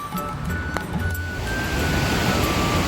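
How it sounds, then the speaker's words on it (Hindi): Water spray and splashing near Suryakund at Gangotri, a steady broad rush of falling water close by that fills the clip without letup, with faint clinks and a brief voice at the start. "यहाँ पे पानी की बौछारें आ रही है ना।"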